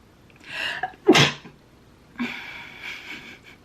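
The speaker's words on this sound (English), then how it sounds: "have to sneeze." A single forceful sneeze, close and loud, preceded by a sharp intake of breath, followed by a softer breathy exhale and some quiet sniffing.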